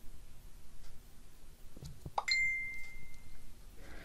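A phone notification sounds once near the middle, a single clear ding with a short ringing tail over quiet room noise and faint handling sounds.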